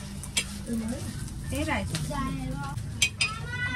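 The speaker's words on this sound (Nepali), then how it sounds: "यो चाहिँ अन्डा चाहिँ म फ्राई गर्दैछु" Eggs frying in a pan for an egg curry, with a steady sizzle underneath occasional stirring and utensil clinks, partly covered by talking.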